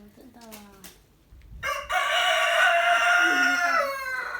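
A rooster crows loudly and close, a long drawn-out call, after a few softer clucks and bird noises from caged chickens.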